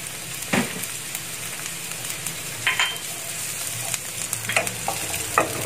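Garlic sizzles steadily in a pan while being stirred, with a soft constant frying hiss and a few sharp scraping clicks of the utensil, close and without talk.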